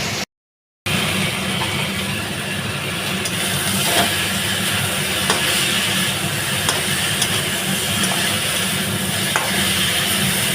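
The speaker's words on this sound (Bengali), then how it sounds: "সব সমেত নাড়ব।" Vegetable curry being stirred and fried in a pan, a steady close sizzle with scraping stir noises running throughout, with a brief silent gap near the start and no talk.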